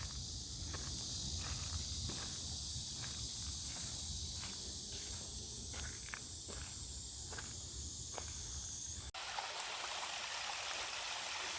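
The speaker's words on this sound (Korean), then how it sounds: "계곡 물도 시원하게 흐르고 있습니다" A mountain valley stream rushes steadily, with a high cicada drone above and scattered soft ticks like footsteps on a trail.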